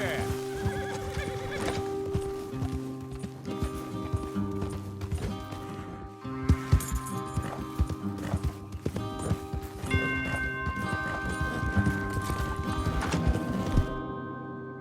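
Horses neigh and whinny repeatedly in Red Dead Redemption 2 while hooves clip-clop beneath, over a layered musical score; the sounds are fairly soft and mixed, with a brief lull midway.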